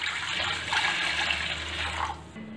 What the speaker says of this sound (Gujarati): આપણે જેમાં ખીચું બનાવ્યું હતું તે મોટા તપેલામાં જ પાણી ઉમેરી દેવું